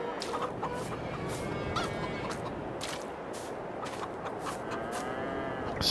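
Farm animals in Farming Simulator 22, chickens clucking and cattle mooing in a busy barnyard, layered calls scattered steadily at moderate distance with no talk over them.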